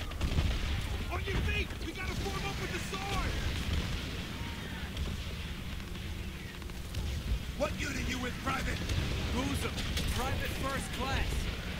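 Gunfire and machine-gun bursts in the World War II video game Call of Duty 3, scattered rattling shots and distant blasts crackling under steady Russian-language talk throughout.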